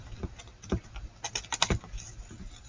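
Quiet, irregular snips and crisp clicks of scissors cutting paper, close by, in short bursts with brief pauses between.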